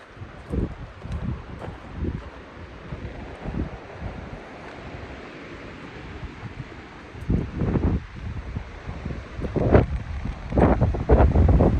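Strong, cold wind buffeting the microphone outdoors by a mountain meadow, a continuous roar broken by heavier low gusts that thump in bursts, growing rougher toward the end.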